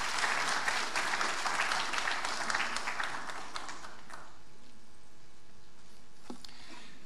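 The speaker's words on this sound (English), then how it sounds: "Let's make him feel welcome, ladies and gentlemen. A round of applause." Audience applause at a formal speech event with a royal guest, sustained clapping from a large crowd that fills the first four seconds and then fades to a quiet room with a few scattered claps.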